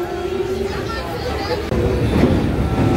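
A passenger train on the Kolkata–Bhubaneswar line crosses the wide Mahanadi river bridge toward Cuttack, giving a loud, steady carriage rumble that swells halfway through, with faint babble of voices inside the coach.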